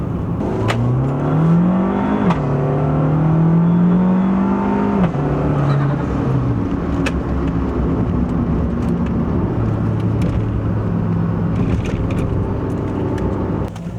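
A modified 2015 Fiat 500 Abarth with a big turbo and loud exhaust revs and accelerates, its engine note rising and falling through gear changes, loud and close throughout with no talk.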